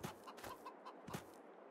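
Several short, close clucks from a chicken in Farming Simulator 22, in a burst, then a pause and a couple more, with no voices.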